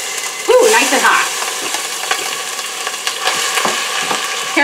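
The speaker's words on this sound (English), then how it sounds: "first we start with sauteing a diced onion" Diced onion sautéing in hot oil in a home kitchen, a loud, steady sizzle and crackle that flares as the onion hits the pan, with stirring scrapes throughout.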